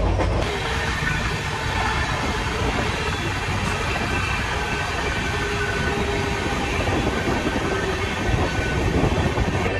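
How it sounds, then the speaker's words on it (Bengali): The Shantiniketan Express pulls into Guskara station, a loud, continuous rumble of rolling wheels and carriages close by, steady for the whole stretch without talk. "ট্রেন এখন ঘুষকরাতে ঢুকলো"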